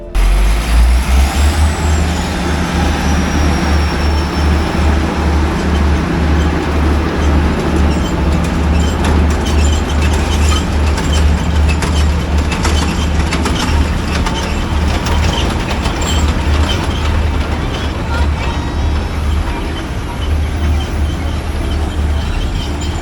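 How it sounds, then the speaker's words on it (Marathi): A train arriving at Matheran station rumbles loudly and continuously throughout, with a steady low drone, wheel clatter and a hiss of air brakes, and no talking. "ट्रेन आलेली आहे."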